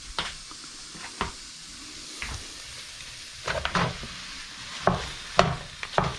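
A pound of ground beef browns in a pan, giving a low steady sizzle broken by scraping stirs that grow busier toward the end, close and moderately loud with no talking.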